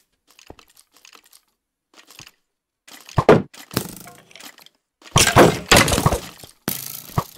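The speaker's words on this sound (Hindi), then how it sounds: "शील्ड टूट गई" A shield breaking in Minecraft, heard as a few sharp cracking and clattering bursts after scattered faint clicks and taps, with no talk.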